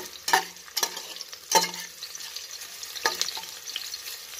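Onions fry in a pan with a soft continuous sizzle, broken by several sharp scrapes and clatters of a spatula being stirred through them.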